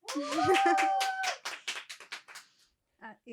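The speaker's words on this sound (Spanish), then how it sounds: "a fuerte los aplausos para Alanis" A talk-show audience gives applause for the guest Alanis: a voice is heard first, then a short run of scattered claps that quickly fades, with speech resuming at the end.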